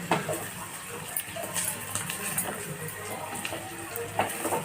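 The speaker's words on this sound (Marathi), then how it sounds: "बटाटा चांगला तेलामध्ये तळून घ्यायचा आहे, हा चिटकू नये म्हणून सतत हलवत राहायचा आहे" Potato pieces fry in hot oil and are stirred the whole time, giving a steady crackling sizzle broken by small scrapes and clinks of a utensil against the pan.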